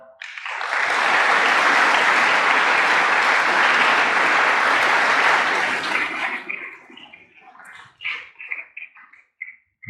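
An audience at a formal maritime affairs institute event applauds to welcome the guest of honor, steady loud clapping for about six seconds that then thins to a few scattered claps and stops.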